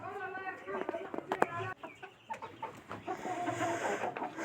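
Chickens clucking close by at a home coop, a busy stream of short clucks and squawks. Someone talks over them at times.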